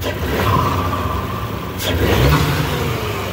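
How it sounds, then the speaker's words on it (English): A B9 Audi S5 engine idles close by after a spark plug change, then gives one quick rev that rises in pitch and settles back down. "All right, so now we're gonna do a quick rev."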